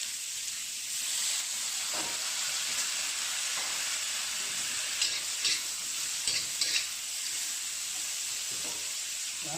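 Wild spring vegetables stir-fried in a wok, a steady loud sizzle and hiss with scraping stirs and a few sharper clatters of the spatula, no talking.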